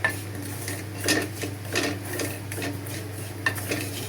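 Cardamom and cinnamon fry in a pan for semolina halwa while a utensil stirs and scrapes, giving repeated metallic clinks and scrapes over a soft sizzle, close and unaccompanied by speech.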